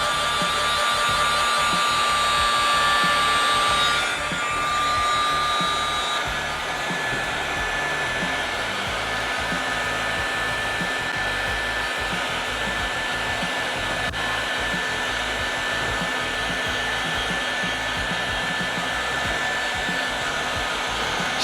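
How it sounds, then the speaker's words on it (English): A heat gun runs continuously as it warms up over countertop epoxy, a steady close blowing whir with an electric whine that dips slightly in pitch early on and then holds constant. "So just getting the heat gun up to temperature."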